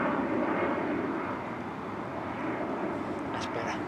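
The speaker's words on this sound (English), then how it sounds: "Just wait for the planes to go over." Aircraft passing overhead outdoors, a steady broad engine roar that holds at a constant level throughout while faint voices are heard beneath it.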